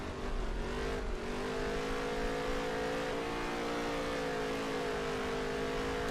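Race car engine in NASCAR Heat 3 drones steadily at high revs for the whole stretch, a sustained, buzzing whine with slight pitch drift and no voices over it.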